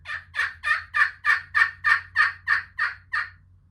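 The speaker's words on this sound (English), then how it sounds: "Oh, he gobbles." A wild turkey gobbles outdoors in a fast series of about ten rattling, evenly spaced calls, fairly close and loud, over a faint low hum.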